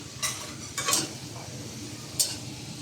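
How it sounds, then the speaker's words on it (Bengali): Spicy potato balls sizzle in hot oil while a utensil stirs them, giving three distinct scraping strokes over a steady close frying hiss. "এখন এগুলিকে গোল্ডেন কালার হওয়া পর্যন্ত ভেজে নিতে হবে অনবরত নাড়তে থাকতে হবে"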